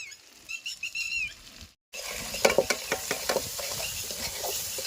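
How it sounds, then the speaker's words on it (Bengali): Prawns frying with cumin, coriander, chilli and turmeric in a pan, a steady sizzle with sharp crackles and pops, briefly cut off before the frying resumes louder. "এবার এটাকে 2 মিনিট মতো ভেজে নেবো।"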